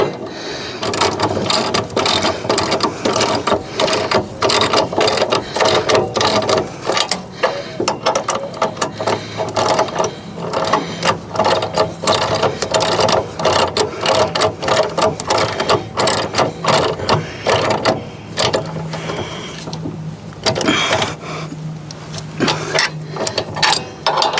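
A hand ratchet tightens the bolt fittings on a side step being added to a Kioti CK series tractor, rapid loud clicking strokes repeating close by with brief pauses between runs.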